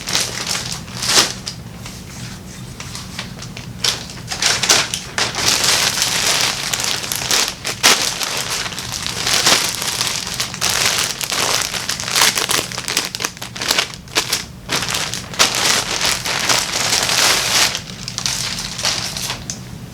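Plastic mail bags holding a washed-out black MNML LA hoodie are torn open and handled, giving steady close crinkling and crackling with sharp rips and rustles throughout.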